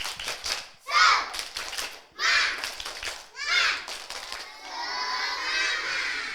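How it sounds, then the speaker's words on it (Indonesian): Kindergarten children at a school talent event join in a spirited clapping chant, three loud bursts of young voices and claps in quick succession, followed by a steadier wash of crowd noise. "Iya, sekali lagi tepuk semangat."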